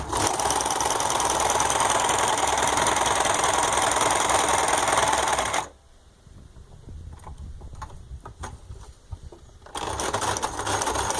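A home sewing machine fitted with an imitation overlock presser foot stitches and trims fabric in a loud, rapid, steady mechanical whir that stops abruptly, leaving quiet handling clicks before the stitching starts up again.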